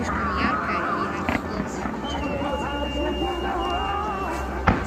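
A fireworks display crackles and pops at a distance under continuous conversation among onlookers, with a sharp, louder bang just before the end.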